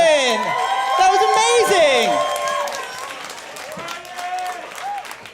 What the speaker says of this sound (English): let's give a round of applause to Brian and Caitlin